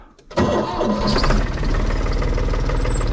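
A tractor engine cranks briefly, then catches and settles into a loud, steady, throbbing idle with a regular low rhythmic chug, heard up close and alone after a short quiet start.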